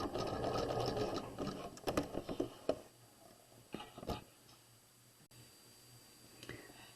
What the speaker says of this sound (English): And then we're going to sew down the bodice side seam